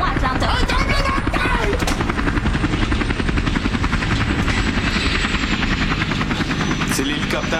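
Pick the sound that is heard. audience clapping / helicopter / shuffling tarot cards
helicopter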